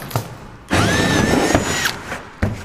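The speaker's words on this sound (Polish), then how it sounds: "Robię sobie otwór wiertłem chyba 12, aby wyprowadzić tutaj przewody" A drill with a 12 mm bit bores a hole in wood in a carpentry workshop, a loud whirring grind with a rising motor whine, cut with brief clicks before and after.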